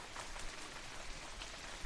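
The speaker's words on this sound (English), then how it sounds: "The rains always fell on the plains of Khorana" Steady rain falling across open plains in an EverQuest fantasy setting, a dense, even hiss of drops with occasional slightly louder patters, continuous and enveloping.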